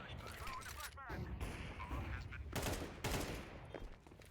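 Rapid gunfire and bursts of shots in a Counter-Strike match, dense crackling volleys heard over game ambience with a voice talking over them.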